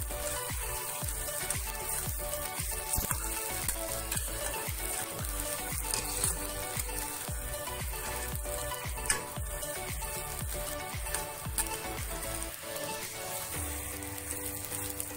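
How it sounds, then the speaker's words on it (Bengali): Grated eggs frying in a hot pan for a crispy potato, flour and egg snack, giving a steady, close crackling sizzle with dense irregular pops throughout and no talking. "এটা গ্রেটার দিয়ে ডিমগুলো আমি দিয়ে দিচ্ছি। ভালোভাবে ভেজে নিতে হবে।"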